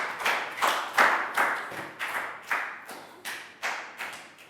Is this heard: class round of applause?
yes